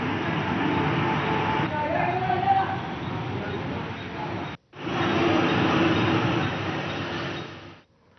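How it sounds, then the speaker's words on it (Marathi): A Mumbai local train runs along waterlogged railway tracks during heavy rain, making a continuous broad rumble with a faint squeal partway through. The sound breaks off briefly, then the steady roar returns before fading out. "रेल्वे रुळावर पाणी साचल्यानं फास्ट ट्रॅकवरची वाहतूक स्लो ट्रॅकवर वळवण्यात आली."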